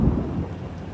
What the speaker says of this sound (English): Starting to drizzle a little now. Winds are intensifying.